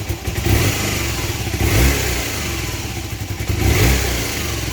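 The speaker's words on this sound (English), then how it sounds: "and if I rev it slightly" A Honda CB250N motorcycle engine idles and is revved gently several times, each rise in pitch swelling up and settling back, heard close and alone.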